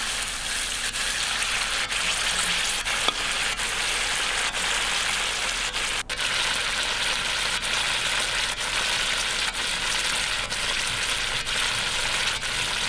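Spiders frying in a pan give a steady, dense sizzle that holds level throughout, with a few faint pops and clicks and no voices.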